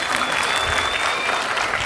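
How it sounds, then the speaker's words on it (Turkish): An audience at a closing event for Trabzon Days applauds in a loud, even burst of many hands clapping at once, sustained without pause and close to the listener. "Onlara iyi bir alkış istiyorum."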